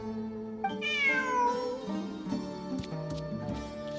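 A cat meows in a long, drawn-out call, close by, followed by fainter shorter sounds over steady background hum.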